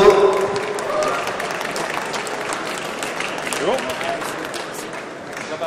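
An audience at a rugby cap presentation ceremony applauds in a sustained, dense wash of clapping that tapers slightly, while a host's voice carries over it.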